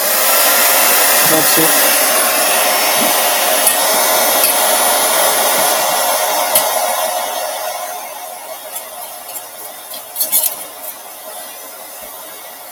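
Blow dryer running loudly and steadily up close, switching between hot and cold settings while softening embalming putty, with the whine tapering and fluttering toward the end and a brief spoken remark near the finish.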